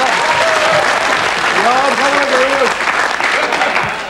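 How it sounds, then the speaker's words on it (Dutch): Loud, dense applause from a crowd, clapping continuously throughout while a voice speaks over it at moments. "dat was een begin van een applaus"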